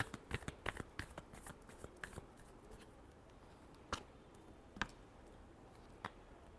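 Tarot cards being shuffled close up, a quick riffle of crisp snapping clicks at first, then a few isolated taps and card slaps spaced apart, quiet overall.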